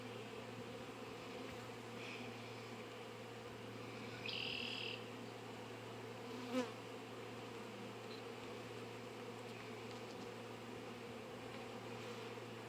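Steady low drone of a mass of honeybees after a frame is shaken into a hive box, continuous buzzing hum with a brief higher whine and a faint knock, moderately close, no talking.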